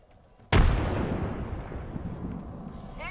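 A frag grenade detonates in Apex Legends with one sudden loud boom, then a long rumbling decay that fades over a few seconds.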